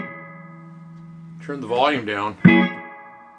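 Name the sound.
DanElectro Spring King spring reverb turned way up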